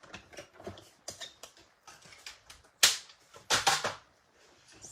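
Stampin' Up! mini die-cutting machine cutting paper during a card-making workshop, giving a close series of clicky mechanical ratcheting and cranking sounds with sharp bursts, heard alone without talking.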